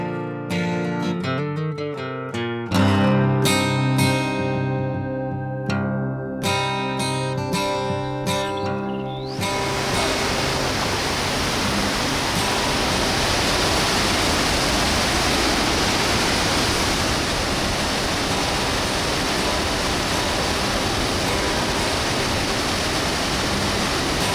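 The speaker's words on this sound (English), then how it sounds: "Halfway down the canyon is the BEKHAL waterfall." The Bekhal waterfall in Rawanduz Gorge roars as a dense, steady rush of falling water filling the scene, preceded by several seconds of music before the water sound takes over alone.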